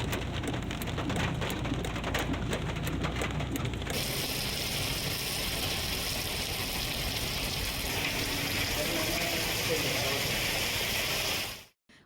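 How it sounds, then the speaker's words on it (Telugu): Heavy rain pours down over Hyderabad, a dense, continuous hiss of downpour on surfaces with some mechanical rattling early on, running steadily before cutting off abruptly near the end. "వాన దంచుడు పెట్టింది"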